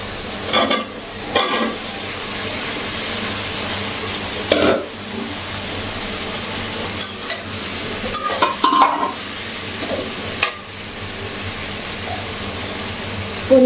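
Cauliflower and potatoes fry in spiced oil and tomato masala, a steady close sizzle broken by repeated scraping and clanking stirs of a spoon against the pan at irregular intervals.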